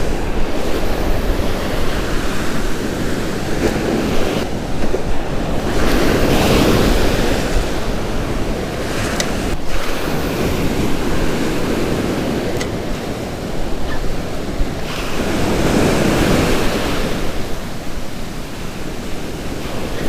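Strong gusting wind buffets an open beach as surf rolls in, a loud, continuous roar of wind noise over crashing waves, swelling in several big surges with no voices.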